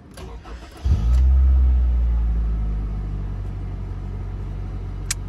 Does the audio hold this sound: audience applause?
no